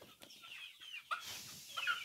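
One-month-old chickens at a poultry farm in Kenya during fowl typhoid vaccination, with soft close clucks and chirps scattered across the moment and a louder squawk near the middle.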